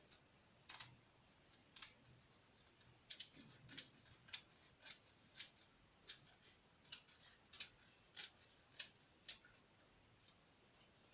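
Scissors cutting through a paper skirt pattern during pattern drafting, a series of crisp, quiet snips in an uneven rhythm, close up in an otherwise silent room.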